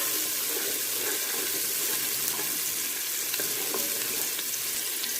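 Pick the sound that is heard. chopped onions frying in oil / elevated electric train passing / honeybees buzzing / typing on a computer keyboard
chopped onions frying in oil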